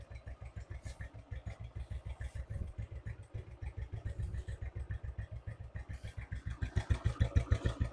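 Motorcycle engine running during a test, a steady rhythmic idle thumping close by that speeds up and grows louder toward the end.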